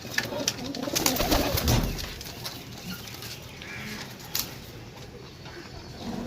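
Pigeons in a loft coo steadily in soft, low rolling calls, several birds close by, with some wing flutter and rustling at the start.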